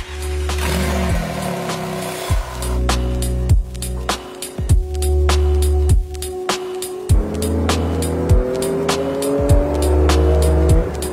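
Porsche GT2 RS sports car driven hard, loud engine revving up through gears with sharp drops at shifts, a brief tire squeal and intermittent clicks over the roar.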